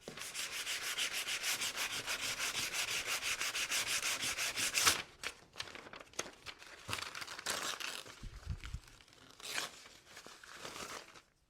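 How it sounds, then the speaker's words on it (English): Rapid, rhythmic scratchy sanding strokes cutting through the edge of paper for several seconds, then scattered rubbing and crinkling scrapes, close and fairly loud. "I'm going to try to cut this edge just by sanding through the paper."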